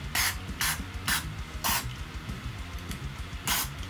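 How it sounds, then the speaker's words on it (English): Several short, loud bursts of aerosol cleaner sprayed into a crackling volume and tone knob, irregularly spaced hisses close to the microphone over a low background hum, with no talking. "And just give it a good spray."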